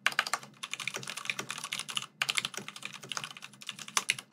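Fast typing on a Varmilo mechanical keyboard, close and crisp, with rapid clacking keystrokes that pause briefly once midway before resuming.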